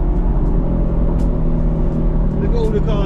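Audi R8 engine running at a car event, a steady, close, rumbling drone with a slight rise in revs near the end.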